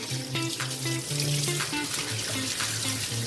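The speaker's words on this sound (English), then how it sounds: "with hot tap water" Steady rushing hot water pours from a tap while rinsing a turkey, a constant close hiss with faint clinks and knocks mixed in.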